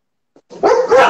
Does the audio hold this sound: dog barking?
yes